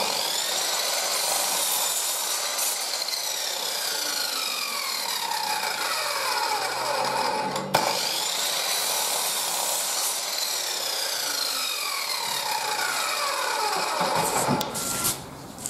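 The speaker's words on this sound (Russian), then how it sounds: "Заготовки режу под упор." A power saw rips through wooden blanks set against a stop, a loud sustained whine that drops in pitch as the blade bites, with a brief break midway and the motor winding down at the end.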